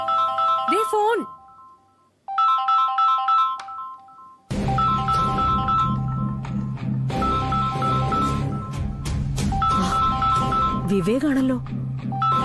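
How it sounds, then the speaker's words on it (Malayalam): A mobile phone's melodic ringtone chimes in repeated bursts, loud and close, with a voice and other people talking over and between the rings. "Mummy, they phone."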